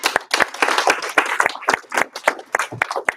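A group in a karate class claps together, a string of sharp, close hand claps at an uneven pace rather than only two clean claps.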